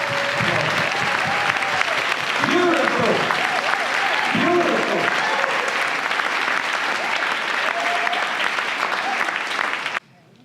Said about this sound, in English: give them a loud applause